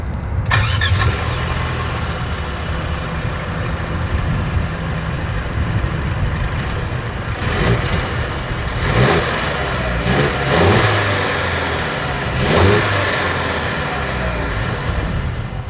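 A 2023 Mercedes-Benz GLC 300 Coupe's exhaust starts up and idles, then takes several sharp revs spaced a few seconds apart, each rising and falling back to a steady burble.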